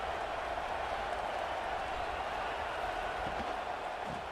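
A college football stadium crowd in a video game, a steady, distant wash of cheering and applause that stays even throughout.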